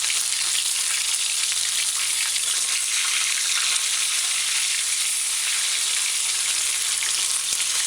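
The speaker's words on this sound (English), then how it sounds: "Anyone that's finished frying, you can remove it." Chicken balls deep frying in hot oil, a loud, steady, dense sizzle that holds evenly throughout with no voices.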